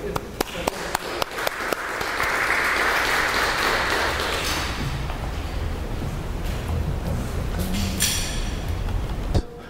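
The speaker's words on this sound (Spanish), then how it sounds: "Un aplauso para Jorge." An audience applauds a guest speaker at a Spanish-language science talk, a roomful of clapping swelling after a few scattered early claps and holding steady for several seconds.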